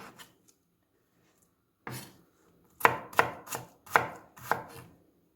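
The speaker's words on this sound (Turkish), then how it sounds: "Şimdi soğanımı doğruyorum." A knife chops onions on a cutting board in a series of crisp, close strikes, first scattered, then five quick rhythmic cuts, with no talking.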